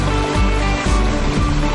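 A small backyard patio waterfall spills steadily, its broad continuous splash and rushing water close and fairly loud, with no voices over it.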